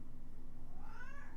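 A cat lets out one drawn-out meow in the second half. It rises and bends in pitch over a low, steady background hum and stays fairly quiet.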